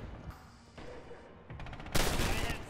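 Gunfire in the WWII shooter Red Orchestra, a clattering volley of shots that swells into a loud, dense burst near the end, with background battle noise throughout.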